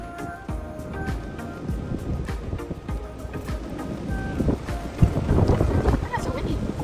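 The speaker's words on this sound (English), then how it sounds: "Oh, it's so windy." Wind buffets the microphone outdoors during a repair on a 2011 Chevy Impala, a steady rumbling roar with gusts that swell louder toward the end, mixed with faint handling noises.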